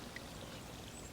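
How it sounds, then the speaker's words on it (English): Water pours in a steady, continuous stream from a pressed water bladder, a survival base-camp container built for special forces, heard close and alone without any voices. "To get water, we just press against the side."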